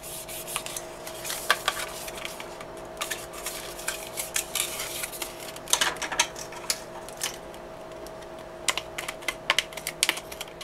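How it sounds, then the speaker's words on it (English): Folded Coroplast plastic sheet being trimmed for a small pocket holster, heard as a steady run of small, close crisp snips and scratchy rasps, clustered in short bursts over faint background hiss. "Just trimming off the sides there."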